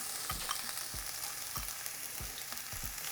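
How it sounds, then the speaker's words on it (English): Onion frying in hot oil in a pan over medium heat, a soft continuous sizzle broken by regular spatula scrapes and knocks about every half second, fairly quiet and close, no talking. "Once it's nice and hot, we're going to add our onion."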